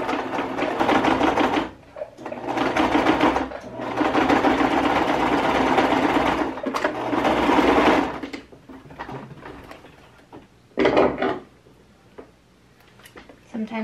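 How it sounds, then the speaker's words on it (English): A sewing machine stitches thrift store sheet fabric in long, loud mechanical runs that stop and restart, with a short burst near the end and quieter pauses between. "it's hard to sew in the sewing machine"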